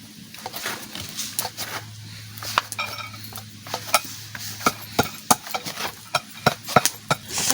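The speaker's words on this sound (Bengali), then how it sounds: "কড়াই বসাই দিচ্ছি প্রথমে নারকেল ভাজবো" Grated coconut is stir-fried in a kadai, a soft sizzle underneath repeated sharp scrapes and clinks of a spatula against the pan in an uneven, quickening rhythm.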